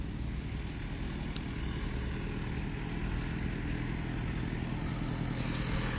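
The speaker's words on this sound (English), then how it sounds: "There is a tractor passing behind me." A tractor passes through a park, heard as a faint, steady engine drone in the background with no speech over it.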